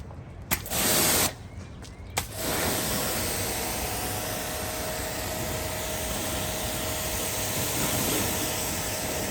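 Sustained spray hiss of soapy water being sprayed onto a car during hands-on ceramic coating detailing training, starting after a few short bursts and continuing steadily and fairly loud to the end.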